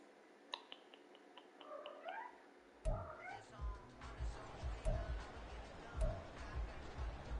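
A house cat meows several times in a row, short rising calls close to the microphone. A person talks quietly throughout, and there are soft handling bumps and indoor room noise.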